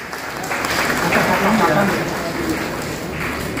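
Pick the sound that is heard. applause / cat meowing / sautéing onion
applause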